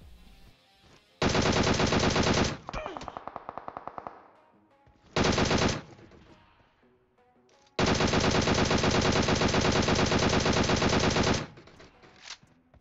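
Automatic gunfire in the PUBG Mobile battle royale game: long, loud sustained bursts of rapid shots, separated by brief pauses and a shorter burst, with no talk over them.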